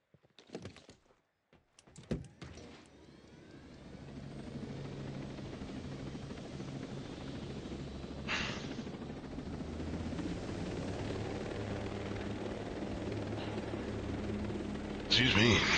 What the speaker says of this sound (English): Okay, that's a helicopter.